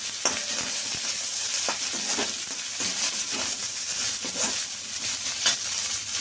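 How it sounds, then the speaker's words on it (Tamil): A small onion fries in hot oil with urad dal for aval upma. A bright, close sizzle hisses steadily while occasional stirring clicks and scrapes come through. No one speaks. "இப்போ வெங்காயம் போட்டுக்கலாம்."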